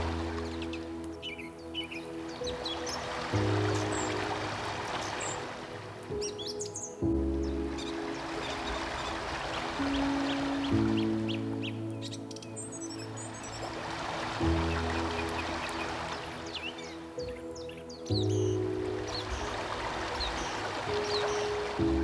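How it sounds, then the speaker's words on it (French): Ocean waves swell and wash in slow, regular surges beneath calm sustained relaxation music, with faint bird chirps scattered over the gentle, even surf. "Je vous laisse en compagnie des vagues quelques instants dans la paix et la sérénité."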